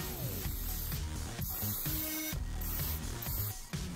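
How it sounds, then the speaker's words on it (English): Cheap supermarket firm-hold hairspray sprayed over a handmade twisted boutique hair bow, several short hissing bursts in a repeating rhythm, close and fairly loud over a low background hum. "cheap basic firm hold hairspray"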